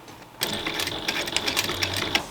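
A sewing machine runs steadily for about two seconds, stitching the binding onto a backpack, its rapid needle clatter starting abruptly after a short quiet moment and continuing close and even.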